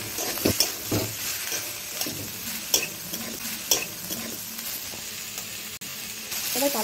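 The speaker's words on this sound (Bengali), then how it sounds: "এবার ভালো করে নাড়াচাড়া করে ভেজে নেবো" Beans, eggplant and onion stir-fried in a pan, a steady sizzle broken by several sharp scrapes and stirring knocks at uneven intervals, close and continuous.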